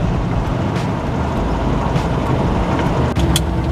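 A classic Mercedes-Benz W108 with a V8 engine idles with a steady, deep rumble and then pulls away, the drone holding close and even throughout with no talking.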